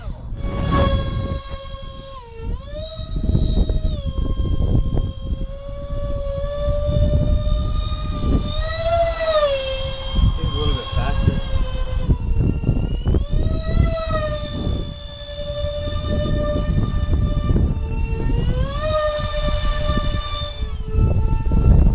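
A scratch-built F-22 Raptor RC jet with twin electric ducted fans and thrust vectoring flies past, a loud high-pitched turbine-like whine that rises and falls in pitch as it climbs and swoops overhead.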